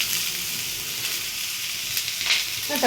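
Sliced onions fry in melted ghee in a pan, giving a bright, steady sizzle and hiss up close, with a few faint stirring clinks.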